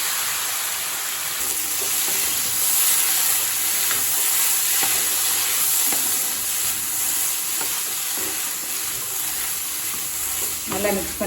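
Boiled green beans being stir-fried with chana dal in a pan, giving a loud, steady sizzle with a bright hissing wash and faint scraping stirs throughout.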